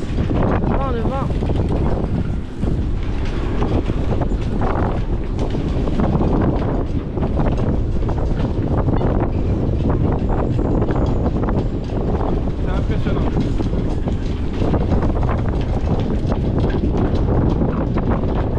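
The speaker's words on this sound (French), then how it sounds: "Ah du vent ouais. C'est impressionnant." Strong wind at sea roars and buffets continuously across the microphone aboard a sailboat, a loud, steady rush with no pauses.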